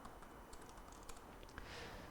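Typing on a computer keyboard while writing a law school personal statement, steady close clicking keystrokes with a few louder taps, no talking.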